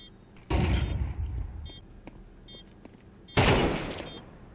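Two loud gunshot bursts ring out in Counter-Strike, each a sharp crack with a booming tail, about three seconds apart, with faint clicks and small beeps in between.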